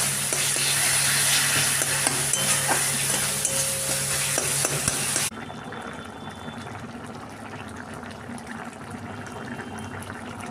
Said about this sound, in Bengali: বেশ ভাজা ভাজা হয়ে এলো মশলাটা